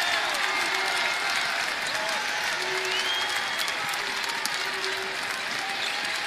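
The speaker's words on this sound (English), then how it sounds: "The crowd stands up here inside Seth Q Arena." A basketball arena crowd roars and applauds steadily during a tight college game between Eastern Michigan and Illinois State, a dense, sustained wall of cheering with a commentator's voice faintly underneath.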